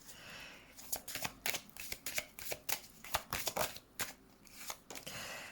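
Tarot cards riffle and slap as they are shuffled, handled and flipped over, a quick run of crisp papery snaps and flutters, close and fairly quiet.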